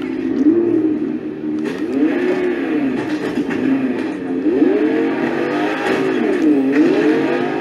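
A car driving in the video game Fortnite, its engine droning and rising and falling in pitch as it revs and shifts, loud and steady with faint tire noise.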